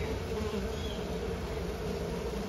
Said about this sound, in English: These are all robber bees for the most part.